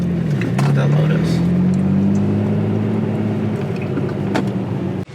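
Lotus sports car engine among a row of warehouses in Dubai, a steady droning hum rising slightly in pitch and holding loud and close for several seconds, with street noise around it.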